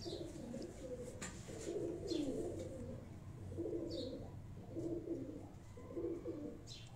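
A pigeon gives soft, rhythmic coos in repeated phrases, faint and fairly close against a quiet background, with no talking.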